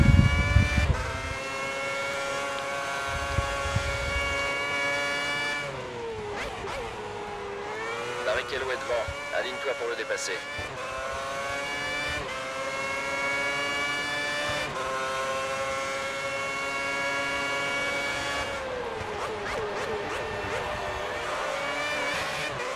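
Formula 1 cars race and overtake in the F1 2010 video game at Bahrain, a continuous high-pitched engine whine that rises and falls through gear changes as cars pass, with a French commentator talking throughout.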